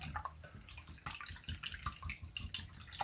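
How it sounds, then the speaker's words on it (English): Eggs whisked with coconut milk in a bowl, a close, busy sloshing and light clinking that runs continuously and fairly quietly, with no talking. "I am just gonna whisk these eggs up"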